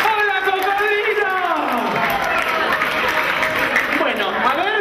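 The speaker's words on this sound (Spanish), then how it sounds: "¡Un aplauso fuerte!" Audience at a children's garden-song show applauding to welcome a crocodile character, with clapping and cheering from a crowd under loud, expressive voices and children calling out.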